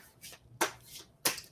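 A deck of about forty playing cards is shuffled by hand in a few quick, crisp riffling bursts, close and fairly quiet, with short gaps between them.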